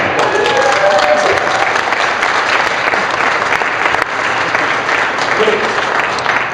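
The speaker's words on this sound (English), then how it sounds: "A round of applause for such a good talk for you" Dense, loud applause from a crowd at Gordon Ramsay Steak in Las Vegas, a continuous roar of clapping throughout, with voices faintly audible early on.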